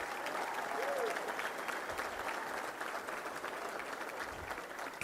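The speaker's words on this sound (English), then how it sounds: "let's give a big round of applause to Steve Spurrier right off the bat" A luncheon audience at a touchdown club gives steady applause, a dense wash of clapping that runs throughout at moderate distance, with faint chatter underneath.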